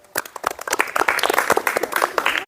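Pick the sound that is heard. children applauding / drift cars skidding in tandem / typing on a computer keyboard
children applauding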